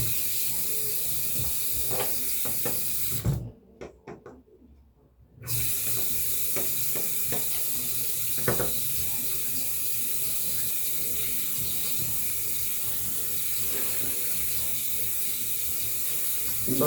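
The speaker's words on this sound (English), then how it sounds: "now it's time to drain the soapy water" Soapy water drains from a sink after hand washing a ski mask and skull cap, a steady close hiss and trickle with a brief pause partway, interrupted by small knocks and splashes.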